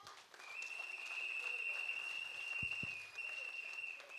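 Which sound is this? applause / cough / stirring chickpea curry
applause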